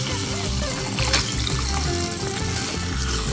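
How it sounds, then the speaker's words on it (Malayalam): Water poured into a simmering Kerala-style ginger and tamarind curry masala in a pan, a steady splashing, bubbling wash that runs close and continuous for a few seconds. "കുറച്ച് വെള്ളം ഒഴിക്കാം."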